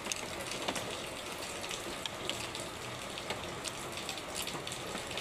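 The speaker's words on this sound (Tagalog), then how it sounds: "Malakas ang ulan." Heavy rain pours down steadily during a flood, a dense, even wash of water noise with no letup and no voices.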